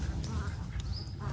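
Noisy female Javanese village duck quacking in a rapid run of harsh calls, close, over a low rumbling background.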